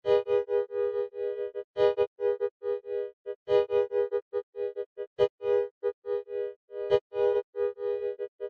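Sustained synth tones chopped by a granular effect into stuttering, grainy fragments, with rhythmic bursts and brief clicks forming a textured, pad-like effect.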